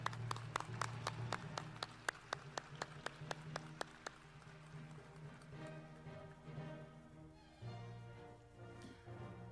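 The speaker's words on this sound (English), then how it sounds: "Let's give a round of applause to the honorees for the College of Innovation and Design." At a service recognition ceremony, a few loud, spaced claps ring out first, then merge into a softer, scattered round of audience applause for the honorees.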